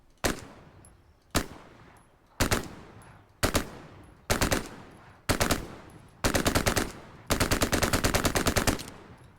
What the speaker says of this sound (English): As you can tell, it sounds like a Sten.